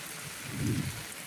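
Heavy rain pours outside a small shop as a steady, dense hiss that swells briefly midway, with no voices.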